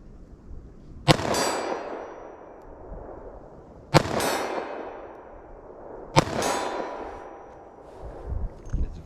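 .38 Special +P rounds from a snub-nose revolver strike a steel target in three loud, sharp clangs spaced a few seconds apart, each ringing and fading out.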